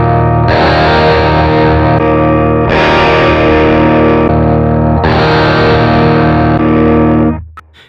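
Heavily distorted electric guitar chords through a Sonicake pedal, three loud strummed chords each left to ring with slightly different tone as impulse responses change, close and dense, ending in a quick cutoff.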